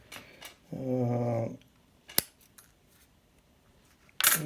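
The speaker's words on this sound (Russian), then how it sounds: "дальше с припуском обрезаем эту деталь. Опять же, ножницами" Snips cutting a metal part for a fuel tank mount, a few sharp clicking snaps followed by a louder crunching cut at the end, close and alone, with a brief low groaning sound earlier.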